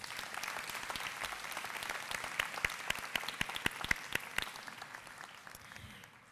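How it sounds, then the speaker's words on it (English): An audience applauds a school band at a Vineland High School moving-up ceremony, a sustained wash of clapping with sharp individual claps standing out, steady then thinning toward the end. "Once again, let's give them a round of applause."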